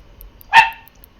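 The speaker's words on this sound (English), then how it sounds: "Sounds like my puppy wants up here with me" A puppy gives a single short high whine, close and clear, then quiet.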